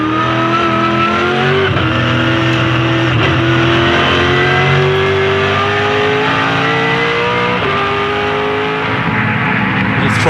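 V8 race cars at Phillip Island during the 2007 Dunlop Grand Finale roar continuously at close range. Engine pitch climbs and drops through throttle changes and gear shifts, with no break in the sound.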